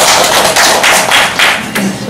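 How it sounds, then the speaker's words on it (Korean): Audience clapping at a local election candidate debate forum, a loud, dense patter of hands that swells and dips in uneven bursts over about two seconds, with no one speaking. "박수 하시나요?"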